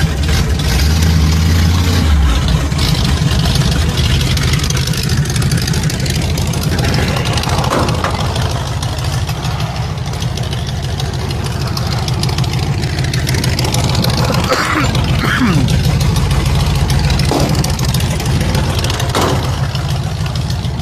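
A hot rod engine idling just after a cold start, a loud, steady, low rumble that runs continuously and close by with slight surges in its roughness.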